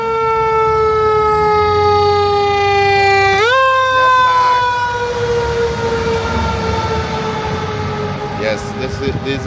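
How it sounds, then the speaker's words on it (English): Fire department trucks sound their sirens at an alarm call, a loud wailing tone that swoops, drops sharply partway through, then keeps sliding and fading, with engine rumble and background noise underneath. "these are the fire trucks from the fire department"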